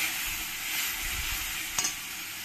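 A spice paste for a kochur loti and mourala fish dish sizzles softly in a pan as a little water goes in, with a low steady hiss and one brief sharper crackle near the end.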